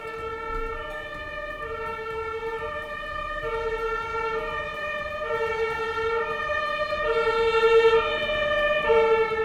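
A two-tone emergency siren from an ambulance or fire engine wails in a steady alternating pattern, moderately distant and growing slightly louder, with faint background rumble.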